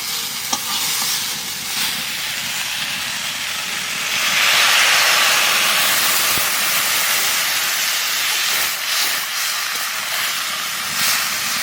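Water poured into a hot pan bursts into a loud steaming hiss that swells midway and then settles into steady sizzling as the green eggplant and chela fish cook, with stirring scrapes throughout.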